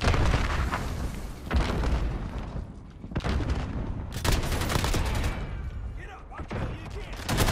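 Grenade blasts and rapid gunfire from a Call of Duty: Modern Warfare Domination match on the Shoot House map, dense and loud throughout, with bursts of automatic fire and booming explosions.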